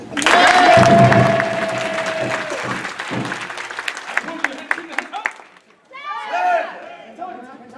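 Audience applause for students at a martial arts belt test, a dense burst of clapping with a sustained voice at the start, thinning into scattered claps, then a voice speaking near the end.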